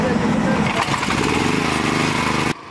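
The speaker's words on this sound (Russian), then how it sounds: "Манипулировать рычагами экскаваторщику предстоит несколько часов." Excavator engine running steadily while digging to repair worn district heating pipes, a loud continuous mechanical drone that cuts off abruptly near the end.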